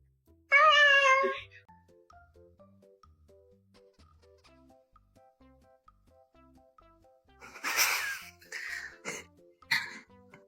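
A fluffy, chunky cat gives one clear, close meow, followed by quiet, and then a few softer, breathy vocal sounds near the end.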